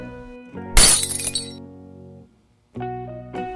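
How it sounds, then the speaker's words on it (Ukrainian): A kitchen window's glass shatters after being struck by a football, a sharp loud crash followed by tinkling fragments that fade, then quieter tonal ringing resumes, heard alone without speech. "Скло розлетілося на дрібні уламки."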